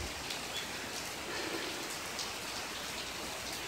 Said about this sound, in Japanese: 今日土砂降りで